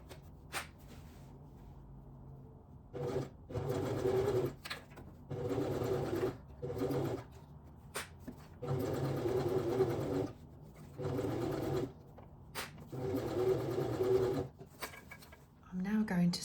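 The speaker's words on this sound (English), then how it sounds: "I'm now going to sew in my name label" A sewing machine stitches a name label onto the edge of a dress, running in several short bursts of steady whirring separated by pauses, fairly close, with speech at a soft level between runs.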